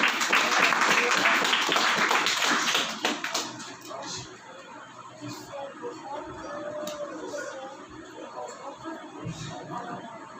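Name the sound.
congregation applauding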